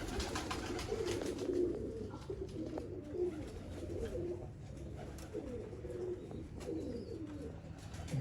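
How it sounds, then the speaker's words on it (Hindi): Pigeons coo steadily in low, rolling calls, repeated throughout over a constant background hum, with faint chirps scattered on top, on a rooftop loft. "डब वाले कबूतर दोस्तों, ब्लैंक चेक वाले डब वाले कबूतर।"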